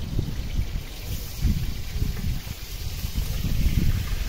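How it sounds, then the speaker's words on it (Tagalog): Wind blows steadily across an outdoor farmyard, buffeting the microphone in low, uneven gusts that swell and ease, with a faint hiss over the top and no voices. "mahangin"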